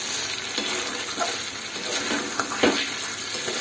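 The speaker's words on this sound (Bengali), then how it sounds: "গ্যাসের আঁচটা কম করে 2 মিনিট মতো এটা ফুটিয়ে নেব।" Kochur loti (taro stolon) curry simmering in a pan over low gas heat, giving a steady close sizzle and bubbling with faint scrapes of stirring and no talking.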